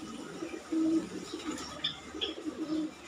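A pigeon coos nearby in low, soft, rounded phrases, repeated a few times, with a couple of faint higher chirps in between and no talking.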